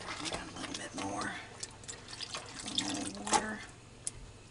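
Water poured into a pot of spaghetti sauce seasoned with Italian herbs, a close, splashing trickle with scattered drips over a few seconds, while a voice talks over it.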